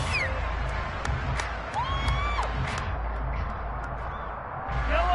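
A stadium crowd roars and cheers continuously through a Jaguars versus Chiefs football video game, a broad, steady wash of noise with scattered whistles and shouts.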